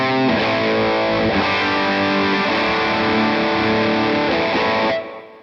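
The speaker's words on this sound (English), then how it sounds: "for my lead sound, what I want to do is to have it on the classic setting with the boost on as well" Electric guitar lead tone through a BluGuitar Amp1 on its classic setting with the boost engaged: a loud, heavily distorted sustained note that rings steadily for about five seconds, then fades out.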